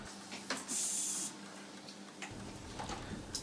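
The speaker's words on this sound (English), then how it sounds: "Here is welding the wire harness into the metal accessories in the switch" A welding operation joins a wire harness to metal switch accessories in a window-lift switch factory, giving a short, loud spray-like hiss followed by quieter ticks and clicks amid steady machine hum.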